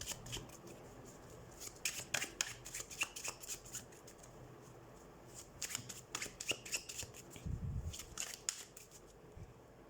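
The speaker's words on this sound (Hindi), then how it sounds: "तो सबसे पहले हम कार्ड शफल कर लेते हैं।" Tarot cards are shuffled by hand in a quiet room, giving repeated soft riffling bursts and light paper flicks, close and faint, with a brief low thump partway through.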